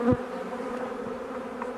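Honey bees buzz around an open hive during an inspection, a dense, close drone with a brief louder pass near the start and no voices.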